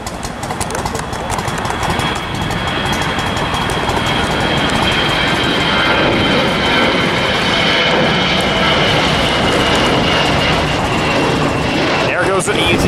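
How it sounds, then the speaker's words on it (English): A Virgin airliner jet takes off at LAX with a loud, sustained engine roar that fills the whole stretch, broadband and steady, with a voice talking over it. "here's another plane taking off"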